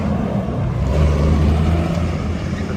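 A 1994 Mack CH613 truck pulling away, a steady loud low diesel rumble with a droning engine tone, close by and continuous with no voices.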